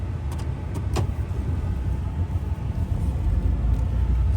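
A heavy late-model truck being driven, a steady low engine rumble and road drone from inside the cab, rising slightly toward the end, with a few faint clicks near the start.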